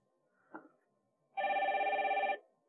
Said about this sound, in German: mit diesem Handy rufe ich jetzt mal diese Telefonnummer an